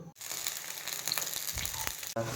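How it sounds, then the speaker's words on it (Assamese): Leafy greens fry in a wok, giving a soft, steady sizzle with a few light knocks and clinks of a utensil, fairly faint and with nobody speaking. "আমি শাকটো ভাজি আছোঁ। শাকটো ভাজি লওঁ বাৰু অলপমান।"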